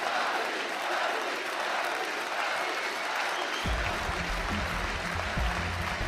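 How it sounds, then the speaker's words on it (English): An esports arena crowd at the 2015 League of Legends World Championship semifinal between Fnatic and KOO Tigers applauds in a steady, dense clatter, with a rumbling low layer joining partway through. "the crowd is showing their appreciation"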